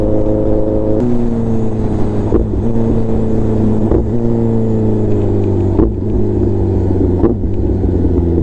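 A Kawasaki ZX10R 1000cc motorcycle accelerates hard on a highway, its loud close engine roar climbing in pitch through several gear changes, each marked by a brief break before the whine rises again.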